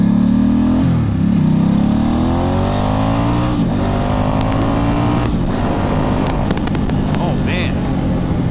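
A 2008 Ducati S2R1000 Monster motorcycle engine drones steadily up close, its pitch rising and falling through gear changes on a ride over roads with loose gravel.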